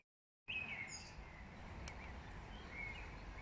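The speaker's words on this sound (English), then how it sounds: "Just the birds and flowers" Birds chirp in a botanical garden in Bucharest's Cotroceni area on a lightly rainy day, giving a few faint high calls over quiet steady background hiss after a short silence at the start.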